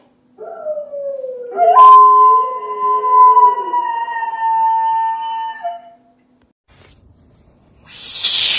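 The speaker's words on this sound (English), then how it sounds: "This is a gray wolf." A gray wolf gives a single long, loud howl that rises and holds a steady pitch for several seconds before it fades out, followed by a brief quiet.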